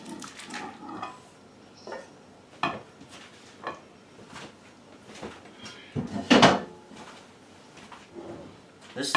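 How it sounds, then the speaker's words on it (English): Dishes clink and clatter as chicken tikka masala is served into a platter or bowl, with several distinct knocks and a louder scrape near the end, close by, while a person talks between the sounds. "Let's put this in a platter or a bowl."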